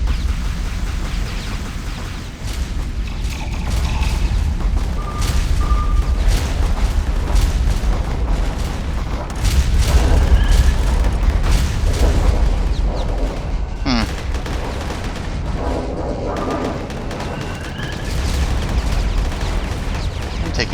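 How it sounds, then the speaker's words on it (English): Missile launches and impacts in the Starsector space combat game: a steady roar of booms and blasts runs throughout, with sharp bursts and brief electronic tones over a dense, loud low rumble. "Firing missiles."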